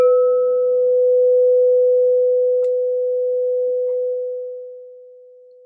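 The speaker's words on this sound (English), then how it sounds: "I'm first going to use my sound bowl here to clear and set the energy for you guys." A singing bowl is struck to clear the energy for a Scorpio reading: one steady, ringing tone that holds for several seconds and slowly fades. A higher overtone dies away early, and a couple of faint clicks come through partway in.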